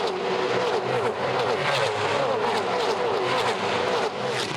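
Supercars touring cars race through the Adelaide 500 street circuit, a loud continuous roar of several engines passing close together, with pitch sweeping up and down as they accelerate and brake through the corners.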